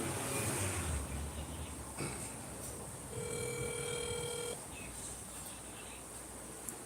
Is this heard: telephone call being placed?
yes